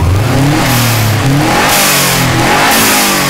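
Turbocharged car engine revving hard, a loud, steady, close roar with rising and falling pitch and a hissing rush in the upper range, heard alone.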